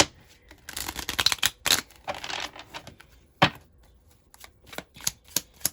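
Tarot cards shuffled by hand in close, crisp riffling bursts with short pauses and a few sharp taps between them.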